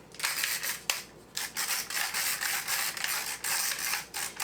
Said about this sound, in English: The pepper grinder is from Surla.